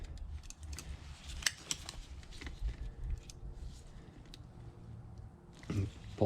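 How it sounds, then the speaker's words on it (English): Pliers squeezing hose clamps tight on the fuel filter of a 2004 Mercury 115 four-stroke outboard, faint close metallic clicks and snips amid low handling noise. "take my pliers"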